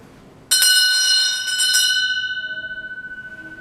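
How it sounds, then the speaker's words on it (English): A single struck bell rings out loud and close, its bright metallic tone lingering and slowly fading with a wavering shimmer, in a staging of Macbeth, with no voices over it. "The bell invites me."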